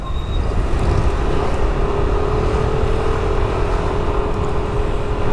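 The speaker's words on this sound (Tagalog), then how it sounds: "Konting birit mo lang talaga ng NMAX na to." A two-valve Yamaha NMAX V3 scooter engine revs hard in a loud, steady drone, its pitch climbing slightly midway with no pause.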